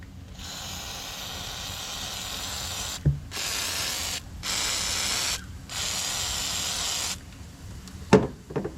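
WD-40 sprays in several bursts onto stained aluminum during rig maintenance, each a steady close hiss lasting about a second, separated by short pauses, with a clunk between bursts and clicks near the end.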